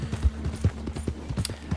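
Horse hooves clip-clopping in steady rhythm as a rider travels in the video game Red Dead Online, close and moderately loud over a low ambient hum, with no talking.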